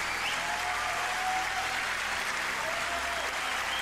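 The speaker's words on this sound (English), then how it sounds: "Average person applauds." Continuous dense applause from a crowd, steady and full for the whole stretch, with a low hum beneath it.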